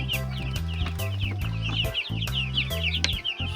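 Young broiler chicks on a farm, about three days old in a pen of around thirty, cheep and cluck continuously in a busy, overlapping chorus of short high calls, close by with no voices.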